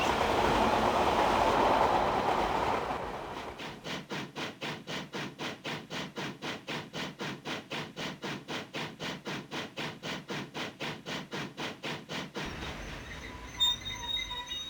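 A train rolls past on rails with a long, even clickety-clack of wheels over joints, loud and close, coming after a rushing roar and fading into lighter ambience afterward, with no talking.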